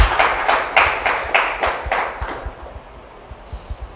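A church congregation claps together in a quick steady rhythm, a dozen or so crisp slaps with dull thumps beneath, fading gradually toward the end.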